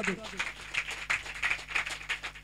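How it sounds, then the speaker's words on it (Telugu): A church congregation claps in a brisk, regular rhythm, each clap sharp and evenly spaced, with the crowd's rustle and voices mixed underneath. "కొట్టండి చప్పట్లు గట్టిగా, ఇంకా గట్టిగా, చచ్చు చప్పట్లు కాదు."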